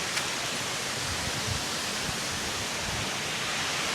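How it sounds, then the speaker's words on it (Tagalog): Taktak Falls, a natural waterfall in Antipolo, pours as a steady, dense broadband rush of water, continuous and unbroken throughout, with no voices over it. "Ito naman po ay natural falls na ito daw ang pinakamalapit na falls na makikita sa city"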